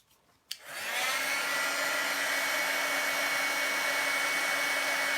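An embossing heat tool switches on with a click and then blows a steady, loud, even whoosh that continues alone for several seconds.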